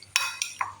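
A spoon stirs custard powder into milk in a bowl, giving three or four quick close clinks and scrapes against the side, with no voices.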